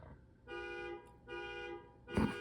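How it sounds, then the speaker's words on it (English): A car alarm sounds at a distance, two sustained electronic tones separated by a short gap, then a brief louder blast, faint and without talk. "somebody's car alarm's just going off"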